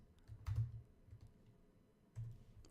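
Quiet typing on a computer keyboard, a couple of soft bursts of muffled key presses close by, with no talking.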